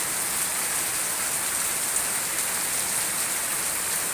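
Heavy rain pours down steadily in Cikarang, a dense, constant hiss of downpour close by with no breaks and no voices.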